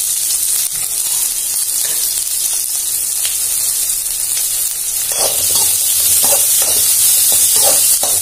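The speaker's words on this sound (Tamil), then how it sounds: "கடுகு நல்லா பொரியுது." Mustard seeds splutter in hot oil in a pan while cooking a carrot-greens and egg stir-fry: a loud steady sizzle with sharp popping crackles growing more frequent toward the end.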